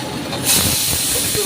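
Bay leaf, whole garam masala, cumin, dried chilli and ginger paste sizzle in hot oil with a loud, steady, hissing crackle that swells sharply as they hit the pan.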